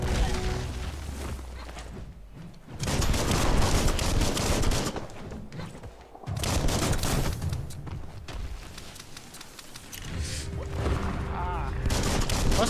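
Rapid bursts of gunfire at a barrel in the video game Biomutant, loud and dense with booming impacts, coming in several waves mixed with speech.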